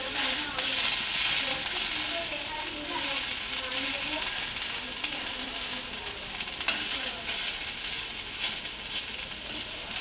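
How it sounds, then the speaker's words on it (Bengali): Onions sizzle and fry in a pan for potato chop, a steady bright hiss lasting throughout with occasional stirring clicks, close and fairly loud with no voices. "পেঁয়াজটা ভাজছে লাল লাল করে"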